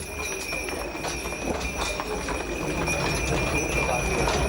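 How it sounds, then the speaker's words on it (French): Horses' hooves clopping on the narrow streets of Zermatt as they pull traditional sleighs, a run of irregular sharp clops over a steady background hum and bustle, fairly close. "traditionnels traîneaux tirés par des chevaux pour circuler dans les rues étroites"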